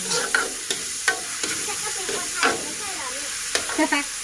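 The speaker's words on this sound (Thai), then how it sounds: "แม่จะผัดก่อน" Vegetables stir-frying in a hot pan make a continuous loud sizzle, broken by sharp scraping and clacking as a utensil tosses them, heard close with no talking.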